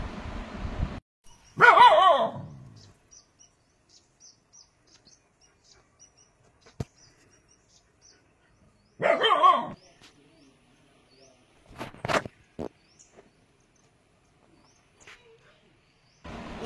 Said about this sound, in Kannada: ಈಗ ನಾಯಿ ಬೇಕುಗಳು ಒಟ್ಟಿಗೆ ಆಟ ಆಡ್ತಿದ್ದು